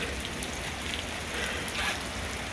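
Steady summer rain falling on a yard and garden, a dense continuous hiss of drops pattering on surfaces, fairly close and even throughout.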